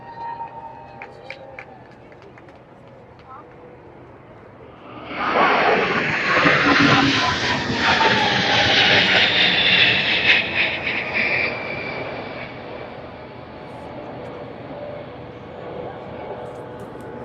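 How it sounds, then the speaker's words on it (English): Spitfire and Hurricane aircraft in a flypast over Trooping the Colour, a roaring rush of engines that swells quickly, holds loud for several seconds and then fades, over crowd noise and nearby talk. "So these are a display of Spitfires and Hurricanes."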